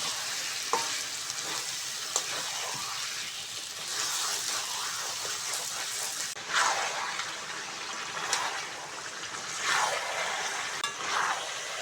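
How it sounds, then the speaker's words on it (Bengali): Chicken, about one and a half kilos, stirred in a pot of spiced masala for kosha, sizzling steadily with repeated scraping strokes of the spoon, close and continuous. "মশলাটা ভালো করে নেড়ে ছেড়ে চিকেনের সঙ্গে মাখিয়ে নিয়েছি"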